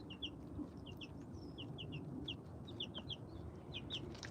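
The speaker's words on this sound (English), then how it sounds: "I'm sitting on the ground watching baby chicks or teenage chicks." Bantam chicks clucking and peeping outdoors on their first day out, with repeated short high chirps in quick bursts over a steady low rumble of background noise.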